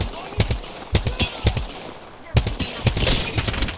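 Gunfire during an Apex Legends firefight where a charge rifle is in play: close, punchy shots in quick bursts, some single cracks and some rapid strings, loud and sharp across the whole stretch.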